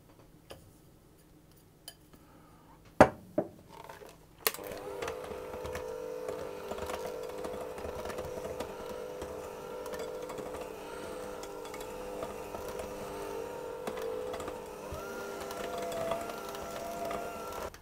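Wet cake mixture for a Bakewell tart being mixed in a bowl, a few sharp utensil taps first, then a continuous motorised whir of steady mixing at moderate volume.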